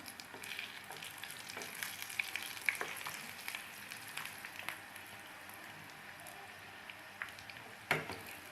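Chicken rolls fry in a pan with a soft, steady crackle and sizzle, scattered small pops and an occasional utensil clink, fairly quiet and close.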